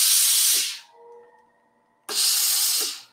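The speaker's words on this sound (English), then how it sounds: "you can hold your iron above the fabric." A steam iron held above stretch velvet fabric releases loud hissing bursts of steam, one long blast, a quiet pause with a faint tonal hum, then a second strong hiss.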